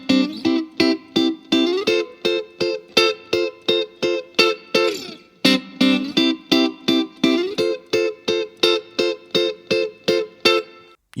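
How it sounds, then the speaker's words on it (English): Rhythmic electric guitar riff from a song, short chords plucked with pick, middle and ring finger together, clean with slight effects, repeating in a steady, evenly spaced pattern, loud and alone. "bring in the pick, middle and ring finger all playing together"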